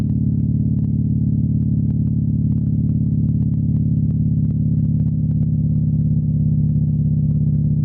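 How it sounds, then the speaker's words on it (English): A Harley-Davidson motorcycle with a 103 engine runs with a loud, steady low rumble and constant throbbing, heard close, with little change in pitch throughout. "That's what I like about this 103 engine."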